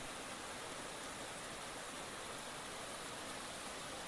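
Water gushes and overflows along a village stream, a steady, dense broadband rush with no breaks, moderately loud and continuous throughout, with no voices present.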